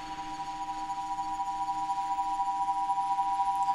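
A pulsing sine tone from a Max/MSP ambience patch hums steadily at moderate level, with a faint pulse that grows slightly stronger over a few seconds, alone with no voices.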